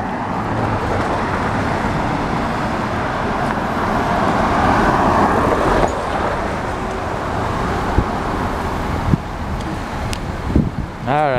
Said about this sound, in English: let's see the traffic coming this way now